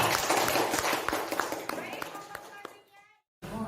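Clapping from an audience at a teachers' workshop, a dense burst that fades out over about three seconds amid voices before a short silence and talk.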